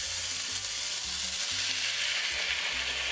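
Egg and vegetables, carrot, broccoli and spinach, frying in a pan, giving a steady loud sizzle with soft stirring knocks throughout, close up and with no voices.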